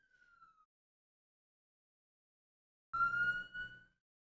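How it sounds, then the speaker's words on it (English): Police car sirens wail faintly in brief bursts, a short falling tone followed after a pause by a louder, rising and holding siren blast, with silence between. "that the cops, the sirens"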